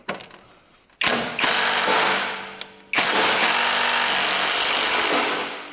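Angle grinder working on a Renault Magnum truck part, two long bursts of loud harsh grinding that start abruptly, hold steady and wind down, with a quiet gap between them.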